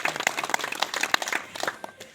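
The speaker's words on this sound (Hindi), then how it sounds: "तो एक बार इसके लिए सब लोग जोरदार ताली बजाएंगे" An audience clapping at a talk, faint and scattered hand claps that patter irregularly for a couple of seconds.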